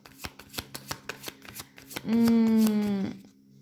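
Tarot cards are shuffled by hand in a quick run of soft riffling flicks, close and fairly quiet, before a brief voiced tone takes over near the end.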